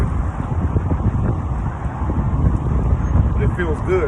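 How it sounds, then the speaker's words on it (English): Strong gusty wind buffets the microphone outdoors, a loud, continuous low roar and rumble that swells and dips, with someone talking underneath it. "This wind is blowing so hard, bear with me, man. It's mighty windy today, uncommon."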